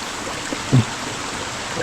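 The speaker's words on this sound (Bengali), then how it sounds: "একটা ঝিরিতে চলে এসেছি, যে ঝিরিতে পানি আছে অনেক, এই পানির শব্দই পাওয়া যাচ্ছে" Water runs in a rocky forest stream in the deep hills of Bandarban, a steady soft rush and trickle with one brief thud partway through.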